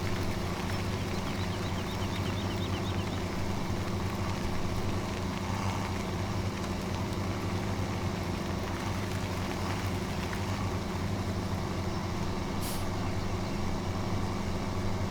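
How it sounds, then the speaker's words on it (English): A small tractor engine idles in Farming Simulator 2017, a steady low droning hum that holds constant and close throughout with no talking. "I love the way this this little tractor sounds."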